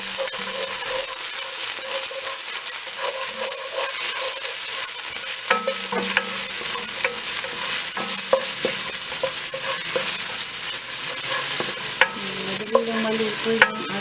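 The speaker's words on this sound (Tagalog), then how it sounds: "Lagyan na natin yung ating minced garlic." Minced garlic and onions sauté in a pan, a loud continuous sizzle with frequent scraping stirs and clinks of a utensil, with no voices.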